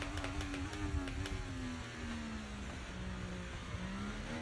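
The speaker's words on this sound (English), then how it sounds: "Car just losing revs." A race car engine in a racing video game drones and slowly loses revs, its steady tone gliding gradually downward, continuous and fairly loud with no talk over it.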